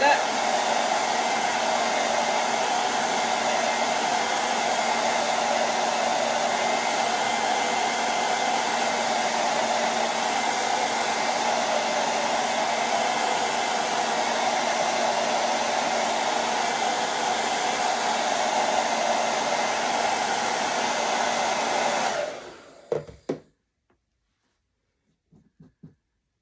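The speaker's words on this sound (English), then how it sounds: "I'm gonna dry that real quick before I mess it up." A hair dryer blows steadily on a chalk paste craft project, loud and close with a constant whooshing hum for over twenty seconds, then switches off, leaving a few faint handling clicks.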